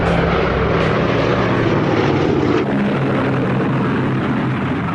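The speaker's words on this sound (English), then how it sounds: "Tibbets lifted his plane, named Enola Gay after his mother, off the runway." The Enola Gay, a World War II propeller bomber, roars down the runway on takeoff: a loud, steady, broadband engine drone lasting throughout, with no voices.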